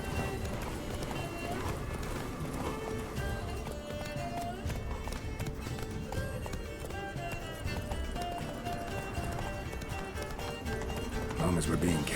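Roach the horse gallops in The Witcher 3, hooves clip-clopping in a rapid, steady rhythm under continuous game music, with voices talking over the run.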